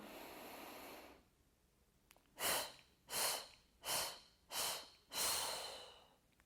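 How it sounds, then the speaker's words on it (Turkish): During a pregnancy breathing exercise, a woman takes deep diaphragm breaths after a short quiet pause: five strong, rhythmic breaths about a second apart, close and clearly audible. "Hep diyafram nefesi, bebeği aşağıya itiş nefesi."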